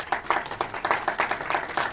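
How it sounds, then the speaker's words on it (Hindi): Audience at a Gita seminar in Jaipur clapping in rhythmic bursts, fairly close and moderately loud, with no talking over it. "इसके लिए आप अपने आप के लिए ताली बजा सकते हैं।"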